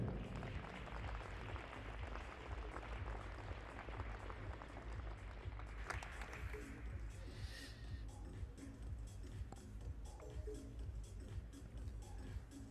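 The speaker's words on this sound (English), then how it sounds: "Please, a big round of applause for Monica Lillehagen." Spectators at a women's 10m air rifle standing SH1 para shooting event at the 2022 European championships in Hamar applaud shooter Monica Lillehagen, dense clapping that thins halfway through, with a voice speaking over it.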